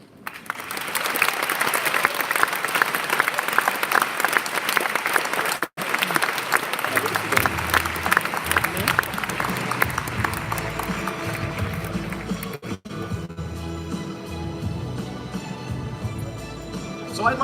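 A large crowd at an awards ceremony applauds in loud, dense, sustained clapping that carries on steadily for a long stretch.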